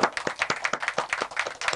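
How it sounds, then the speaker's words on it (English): Scattered clapping from a small open-mic audience after a number and dice trick, with individual claps distinct and uneven, moderately close and fading in and out. "Let's give Gunnar a big round of applause."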